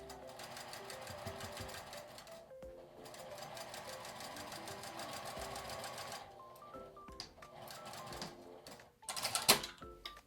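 A sewing machine stitches fabric for a drawstring pouch with a reverse-action tweezer holding the seam allowance, running in a steady continuous whir for most of the time, close and alone, with a brief clatter near the end.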